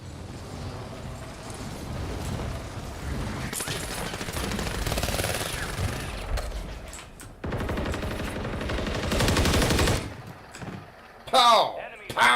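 Sustained automatic gunfire in a first-person shooter game, dense rattling bursts that roll on for several seconds with brief pauses, with a person talking over the shooting toward the end.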